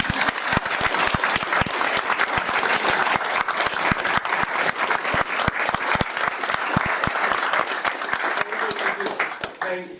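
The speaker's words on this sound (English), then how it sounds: "We give them all a real super big round of applause." A room at a county board of supervisors meeting breaks into sustained, dense applause for first responders, many hands clapping loudly and evenly for about ten seconds before it tapers off.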